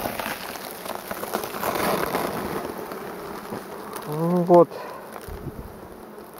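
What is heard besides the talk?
honeybees buzzing at a hive in winter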